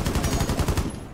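Rapid automatic gunfire in Rainbow Six Siege, a burst of about eight evenly spaced loud shots over roughly a second, then it stops abruptly.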